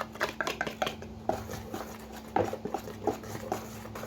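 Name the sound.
stirring batter of flour, baking powder and salt for banana fritters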